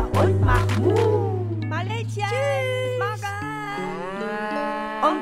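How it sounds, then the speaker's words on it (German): A cow's moo within a German children's song, a long low mooing call at the start, followed by sung vocals and music layered over it. "komm morgen wieder und mach Mu."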